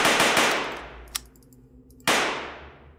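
Gunfire in a 3D horror version of the Among Us game, a dense burst of rapid shots that cuts out, one sharp isolated crack, then another loud burst starting abruptly, with no talking.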